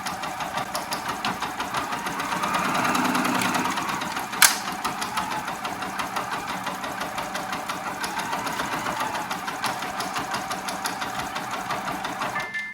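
A Brother PR1X embroidery machine stitches an autumn design onto a sweatshirt, giving a steady, fast mechanical chatter that is close and even throughout, with one sharp click partway through.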